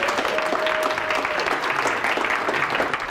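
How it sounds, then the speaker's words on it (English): Audience at a hypnosis conference keynote breaks into applause, a continuous dense wash of clapping that holds steady throughout at a fairly close, even level. "Give yourself a round of applause for being here."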